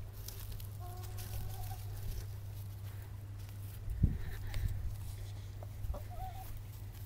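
Backyard hens cluck softly now and then over a steady low hum, with a brief bump and rustle partway through.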